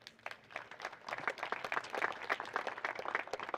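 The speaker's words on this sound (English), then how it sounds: "Another round of applause for these players." An audience at a charity golf event claps for the players, a soft, steady patter of many hands at some distance, building slightly and continuing throughout.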